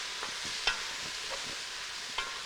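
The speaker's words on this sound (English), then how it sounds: "stir it in here." Gluten-free flour is stirred into a mushroom stew, with soft wet stirring under a faint simmer and a few sharper spoon knocks against the pot.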